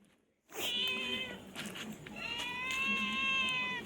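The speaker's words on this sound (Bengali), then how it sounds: "ম্যাও ম্যাও" A pet cat named Chingri gives two drawn-out meows close to the recorder, a tonal first cry followed by a brief pause and a longer second one, in a quiet room.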